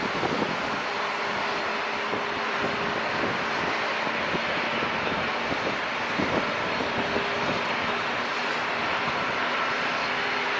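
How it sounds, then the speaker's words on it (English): An airplane takes off from San Diego International Airport in the evening, a broad, steady roar of jet engines sustained throughout, moderately distant, with no talking. "We have a beautiful liftoff this evening."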